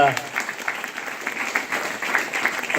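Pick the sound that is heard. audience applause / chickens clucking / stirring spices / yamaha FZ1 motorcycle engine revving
audience applause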